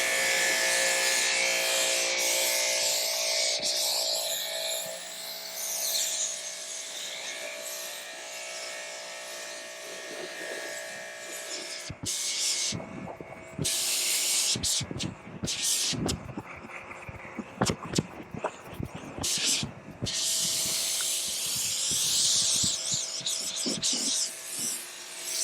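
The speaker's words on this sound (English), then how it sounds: "we'll go ahead and just turn on the pressure washer" A Ryobi 3,300 PSI pressure washer with a 40-degree nozzle sprays water onto a car, a steady loud hiss that roughens and sputters midway, then settles back to a continuous spray.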